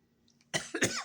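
A person coughs twice in quick succession, loud and close, after a brief near-silent pause, while tasting Halloween Oreos and Stranger Things Chips Ahoy cookies.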